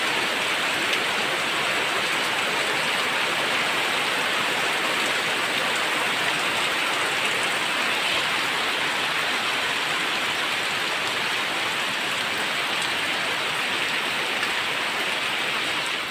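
Steady, loud rain pours over rural farm fields in a constant dense hiss with no breaks and no voices.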